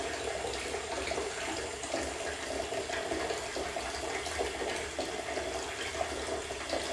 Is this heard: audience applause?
no